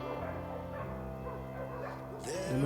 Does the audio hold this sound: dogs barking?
yes